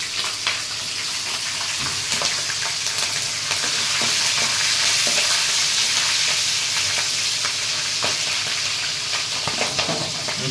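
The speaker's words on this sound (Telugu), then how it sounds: "పచ్చిమిర్చి, ఆనియన్స్ ఫ్రై చేసుకోవాలి" Green chilies and onions frying in a pan for chicken curry, a continuous bright sizzle with repeated scrapes of a spatula, close and alone.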